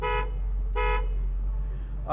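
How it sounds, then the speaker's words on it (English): Short honks from the dash-button horn of a 1969 Chevrolet Camaro, Yenko style: three brief, bright blasts close by over a low idling engine rumble, the last cut off at the end. "we have a horn through the horn button on the dash."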